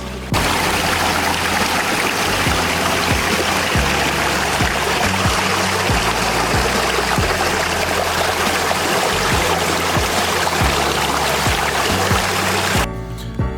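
Water of the River Tib, culverted beneath Manchester since the 1820s, rushes steadily through the underground channel, a loud continuous broadband roar with low thuds, cutting off at the end.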